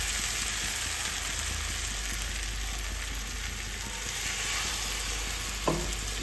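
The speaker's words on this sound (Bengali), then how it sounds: "মশলা কিন্তু আস্তে আস্তে করে তেল ছাড়ছে, খুব ভালোভাবে কষানো হচ্ছে" Spice masala fries in oil for a vegetarian cauliflower curry with bori, slowly releasing its oil as it is sautéed. A dense, constant sizzle carries throughout, with one brief click near the end and no speech.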